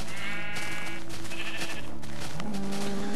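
Minecraft sheep bleat loudly in close succession over a dense, continuous game background, with no talking.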